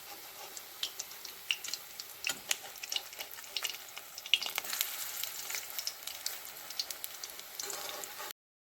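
Lentil fritters (bora) fry in hot oil with a soft, steady bubbling crackle and scattered pops, fairly quiet and without voices, cutting off abruptly near the end.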